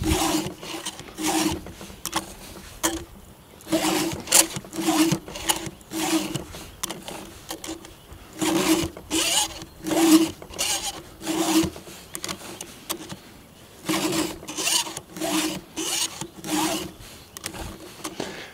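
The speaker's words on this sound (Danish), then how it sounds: "Det er meget vigtigt at få filet sin sav" A file rasps against a chainsaw chain in repeated short strokes, a close, steady back-and-forth scraping rhythm with brief pauses between groups of strokes, with no talk.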